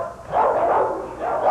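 A dog barking and whining in continuous, wavering bursts, fairly loud and close, with a howl-like sustained tone rising and falling throughout.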